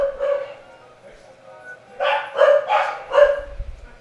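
Corgis in the Shadows of the Empire video game bark. One short yip comes first, then a quick cluster of four or five clear barks, moderately loud, against a quiet background.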